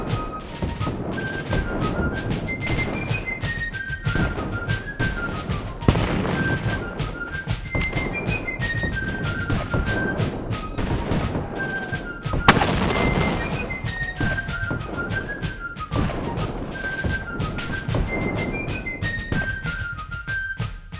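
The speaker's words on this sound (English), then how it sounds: "Over Perth Amboy, the bombardment continues." British warships fire a cannon bombardment on Perth Amboy in 1776, a continuous barrage of booms and blasts layered over swelling orchestral music, dense and loud throughout with a heavy hit near the middle.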